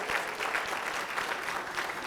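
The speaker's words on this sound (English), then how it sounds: "Give yourselves a round of applause for being in the space" A crowd at a men's breakfast gathering claps in a brief, dense burst of applause for first-time attendees, steady and fairly close throughout with no voices over it.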